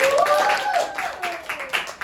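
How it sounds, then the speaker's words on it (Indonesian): Classmates clap for a student named Sofi in a sociology class, a short burst of scattered clapping that fades into separate claps while someone speaks over it. "Beri tepuk tangan untuk Sofi."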